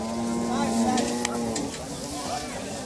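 Cattle being loaded onto a truck at a livestock market give a long, low, drawn-out moo that fades, with murmuring voices and general yard noise behind it.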